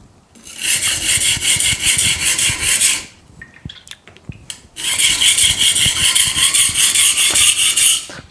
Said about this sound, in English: If you hear that the very light dry sound from the stone